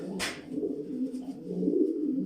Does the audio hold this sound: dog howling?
no